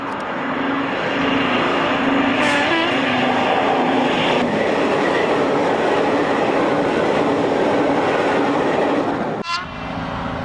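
Class 55 Deltic diesel locomotive hauling the Hull Pullman past Little Bytham in July 1976, a loud, steady broadband roar of engine and rolling stock throughout, with a brief horn-like tone midway and an abrupt cut near the end.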